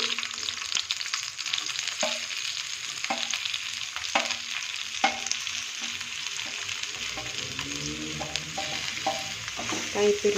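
Grated coconut fries in a pan for tomato chutney, a constant close sizzle with several stirring scrapes and clicks, growing busier toward the end.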